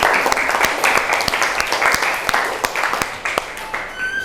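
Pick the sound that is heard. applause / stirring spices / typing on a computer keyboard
applause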